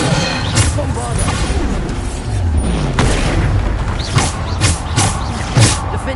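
Bombarda explosion spells cast in Hogwarts Legacy, several booming blasts and impacts landing in a rough rhythm over a dense battle din, with a voice speaking throughout.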